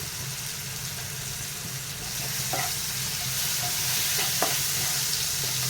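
Fish curry paste with turmeric being stir-fried in a pan for a Bengali bhola fish mustard-poppy jhal, a steady sizzle with occasional spatula scrapes and knocks, growing slightly louder midway.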